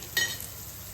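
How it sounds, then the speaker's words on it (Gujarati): Chopped onions fry in a hot pan for a Kathiyawadi dhaba-style vagharelo rotlo, giving a steady close sizzle with a brief louder burst of stirring near the start. "બ્રાઉન થાય ત્યાં સુધી શેકી લઈશું બે મિનિટમાં ડુંગળી સરસ થઈ જશે"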